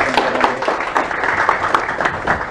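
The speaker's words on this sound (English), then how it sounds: "So let's give them a warm round of applause." Conference audience at PyCon APAC 2018 applauding a speaker, a dense, steady patter of many hands clapping at close range that holds at an even level throughout.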